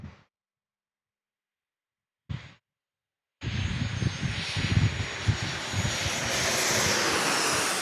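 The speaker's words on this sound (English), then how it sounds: "this 737-700 arriving from San Jose" A Boeing 737-700 jet airliner arriving from San Jose to land at San Diego airport roars in after a couple of brief cut-off fragments, a broad steady jet rush building and holding loud through the end.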